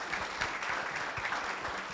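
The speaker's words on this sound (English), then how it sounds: "give, please, a warm round of applause for all the amazing panelists up here." Audience applauding panelists at a leadership forum, a soft, continuous patter of clapping heard from a distance.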